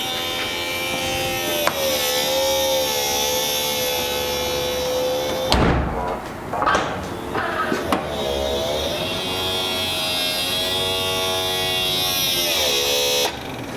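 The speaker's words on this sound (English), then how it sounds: "the sound of the motor is much better than before" A BMW E39 Touring automatic tailgate's hydraulic pump motor whines steadily with a rising and falling tone, broken midway by a burst of clunks and movement noise before the motor hum resumes.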